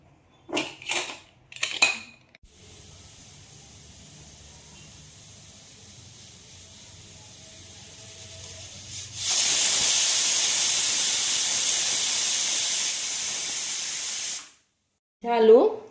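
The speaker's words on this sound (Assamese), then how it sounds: "মিঠা আলু সিজাই লৈছোঁ।" Sweet potatoes boiling in a pot give off a loud, steady hiss of escaping steam for several seconds, preceded by a lower simmering rumble and brief clatter at the start and end.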